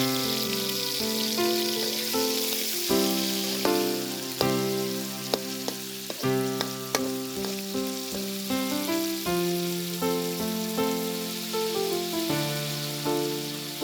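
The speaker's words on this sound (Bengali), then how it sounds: "গরম তেলে ভাজা হচ্ছে চিংড়ি" Prawns fry in a wok of hot oil over a stove, a steady bright sizzle running without a break, with soft scrapes and occasional light clicks of a utensil against the pan.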